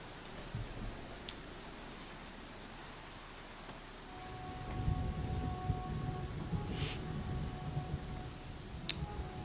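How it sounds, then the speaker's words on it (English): Rain and thunder in the video game Pathfinder Kingmaker: a faint steady rain hiss, then a low rumble swelling midway, with a few sharp ticks and a thin tonal hum layered over the storm. "Oh, no, not rain again."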